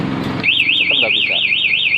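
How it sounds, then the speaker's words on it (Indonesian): A BHT Gold alarm fitted to a Yamaha NMAX scooter sounds loud and close, a continuous wavering electronic siren that starts abruptly after a brief clatter. "pencet gembok tutup 1 kali, maka mesin mati dan alarm berbunyi"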